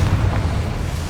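A short burst of explosive, booming rumble from a Confringo fire spell in Hogwarts Legacy, loud and dense for about a second with no voices.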